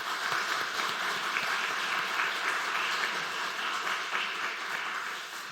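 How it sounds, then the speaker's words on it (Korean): A church congregation gives sustained applause of thanks at a Wednesday service in a Korean church, dense steady clapping from many hands that fills the room and tapers slightly at the end. "감사의 박수 하도록 하겠습니다"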